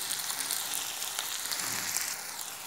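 Chopped onion and tomato frying together in a pan over raised heat for shrimp curry, a steady bright sizzle with soft crackles, close and continuous, no voices.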